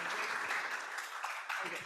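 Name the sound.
audience applause for the speaker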